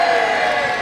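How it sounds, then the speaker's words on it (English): A crowd at a live trebuchet demonstration at Warwick Castle cheers in one brief, loud burst that stays steady, with many voices blending into a dense roar. "Can I hear the biggest, the loudest cheer for the Warwick Castle Trebuchet?"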